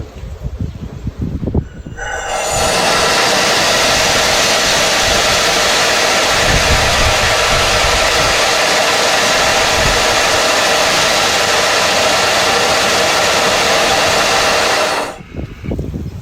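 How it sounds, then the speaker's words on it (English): A hybrid rocket motor test firing at 1000 psi in a workshop gives a loud, steady, broadband roar that starts abruptly, holds at full force for about thirteen seconds, then cuts off sharply. "We're at 1000 psi, going for launch. Launch initiated."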